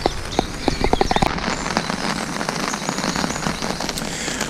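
A heavy rain downpour drums steadily on the water and surroundings of a canal during a tench fishing trip, dense and continuous with sharp drop impacts early on and no speech.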